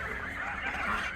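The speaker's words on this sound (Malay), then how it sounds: "Tu dia angsa." Farm geese honk in a continuous noisy chorus, moderately close and fairly quiet, with no one speaking.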